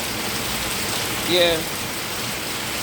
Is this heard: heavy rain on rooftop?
yes